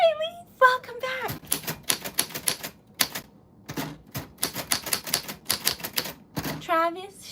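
Rapid, uneven clacking of typewriter keys fills the stretch, with sharp bell dings near the start and end, close and crisp, while a high-pitched voice speaks over the typing at moments.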